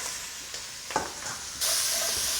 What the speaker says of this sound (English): I kept a little bit of that meat juice, actually meat oil, in the pan. And we're gonna just give these a little stir in that heat.